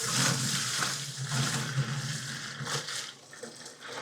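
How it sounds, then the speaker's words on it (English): Hot water from a tap runs and pours into brewing kit being prepared for cleaning, a continuous rushing, splashing flow with slight variations and no speech. "I've just got some hot water straight out of the tap"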